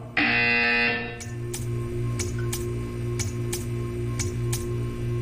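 A loud electronic buzzer tone from the video game Portal 2 sounds briefly, followed by a steady hum with a series of evenly spaced sharp ticks.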